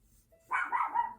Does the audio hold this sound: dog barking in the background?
yes